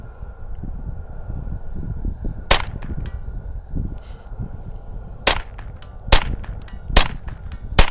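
A Derya Arms TM22 .22 LR rifle fires about five sharp, cracking shots at targets over a quiet background, spaced unevenly, the last few coming faster.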